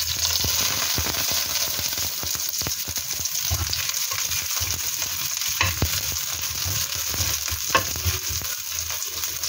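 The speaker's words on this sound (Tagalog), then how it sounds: "kapag po mainit na ang ating mantika, ilagay na po natin ang ating sibuyas" Onion sautés in hot oil for a squash and shrimp dish, producing a dense, steady sizzle and crackle close by, with occasional stirring knocks and scrapes and no speech.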